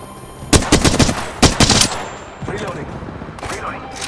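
Bursts of automatic gunfire in the Apex Legends battle royale game, two sharp loud volleys of rapid shots followed by quieter scattered fire further off.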